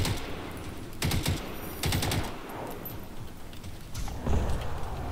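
Turret gunfire in the video game Landfall, rapid automatic bursts of shots coming in several loud clusters against a noisy background of battle sounds, with no speech.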